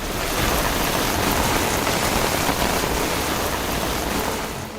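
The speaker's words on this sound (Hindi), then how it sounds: "यहाँ बीते 24 घंटों से तेज बारिश हो रही है" Heavy monsoon rain pours down in Bhatkal, Uttara Kannada, as a dense, steady, loud roar of drops that holds unbroken throughout, with no voices.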